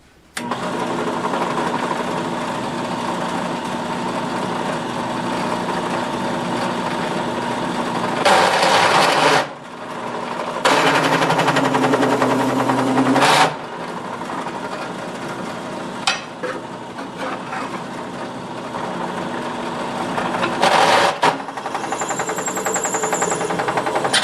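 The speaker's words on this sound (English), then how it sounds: "We'll drill the holes and then we'll come back." A power drill whines steadily for long stretches, with bursts of louder grinding as it bites into a metal transmission adapter plate drilling quarter-inch holes, then brief pauses.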